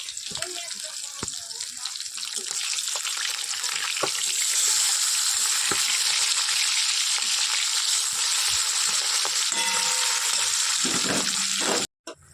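Fish curry simmering in a pan, a steady close sizzle and bubbling that grows louder and holds before cutting off abruptly at the end.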